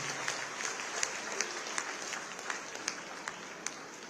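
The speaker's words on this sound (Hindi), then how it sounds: "जोरदार तालियां" A crowd claps at an award ceremony in Gorakhpur, in India. The applause is dense and sustained with scattered sharper claps, heard at a moderate distance and fairly quiet overall.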